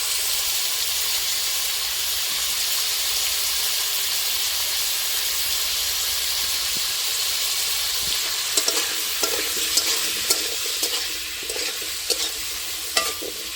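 Potatoes fry in oil with salt and turmeric, a continuous close sizzle and hiss; partway through, stirring adds a run of scraping knocks over the frying, and no one speaks.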